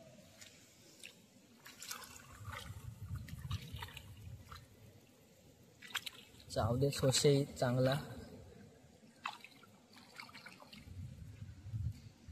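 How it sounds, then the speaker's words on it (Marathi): Water flows from a pipe into a flooded rice paddy in a Konkan field during planting, with a steady trickle and splash that stays low beneath almost continuous talking. "हा बघा पायपान पाणी येत आहे."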